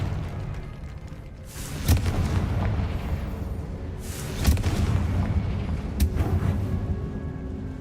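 Confringo fire spell blasts in the Hogwarts Legacy video game, three sharp booming explosions a couple of seconds apart over a steady low rumble of game ambience.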